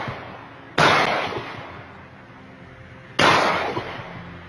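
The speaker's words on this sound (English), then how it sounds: "That's the sound of gunfire." Two loud gunshots, about two and a half seconds apart, echo outdoors in a parking lot over a quiet background.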